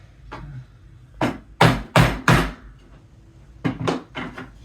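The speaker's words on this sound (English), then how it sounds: "that's where you start using the hammer, because all your weight might not be enough" Hammer blows driving the side frames of an IKEA IVAR shelf together: a light tap, then three loud close strikes in quick succession, a pause, and two more knocks, each with a short woody ring.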